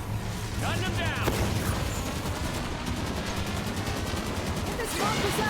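Rapid automatic gunfire in the shooter game Halo 5: Guardians, dense continuous bursts with a loud rumbling low end and a few sharper impacts throughout.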